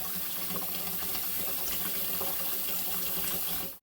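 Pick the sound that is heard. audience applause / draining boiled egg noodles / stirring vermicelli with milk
draining boiled egg noodles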